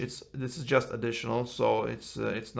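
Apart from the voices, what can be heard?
No everyday noise stands out behind the speech.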